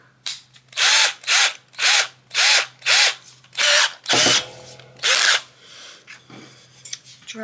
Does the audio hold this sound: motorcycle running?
no